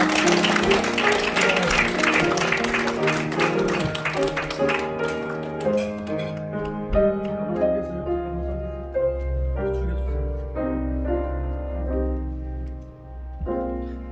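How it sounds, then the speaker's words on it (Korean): Church congregation clapping along to piano and organ-like music after a baptism, rhythmic applause strongest at the start and fading as the instrumental music carries on. "우리 주님 앞에 영광의 박수 올려드리겠습니다."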